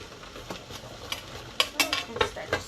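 Bubbling, spitting pops and spatters from meat sauce for spaghetti cooking in a hot pan, irregular and close, growing busier toward the end.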